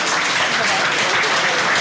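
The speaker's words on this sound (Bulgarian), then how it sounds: "Така че аплодисменти за тях." Steady, dense applause from an audience at a cybersecurity talk fills the room for a team's win. The sound is loud and even throughout, with possible talk under it.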